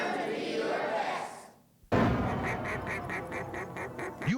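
Ducks quack in a steady run of short, repeated calls near the microphone after a brief pause, with a dense babble of other birds and noise behind them.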